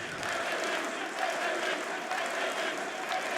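A large esports arena crowd at a Rainbow Six Siege Major playoff match between M80 and Wildcard in Munich applauds and cheers in a steady, sustained wash of clapping that fills the hall.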